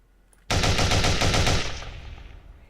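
An automatic weapon in an indie video game under development fires one loud, rapid burst lasting about a second, then the sound rings out and fades in a reverberant tail.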